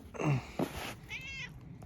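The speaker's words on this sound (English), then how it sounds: "Key-Bob's out here saying hi. What's up, Key-Bob? How are you? Shop cat." A shop cat meows several times up close, two short calls followed by a longer rising meow, all fairly loud against a quiet room.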